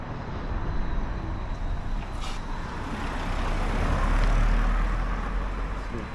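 A bus rumbles past nearby on a village road, a broad, steady roar that swells toward the end with a brief hiss, heard outdoors beside an army training ground.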